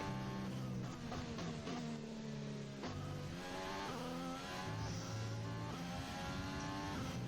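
A Formula 1 race car in F1 2020 at Bahrain qualifying, its engine a steady high-pitched whine rising and falling through gear shifts and revs, loud and continuous.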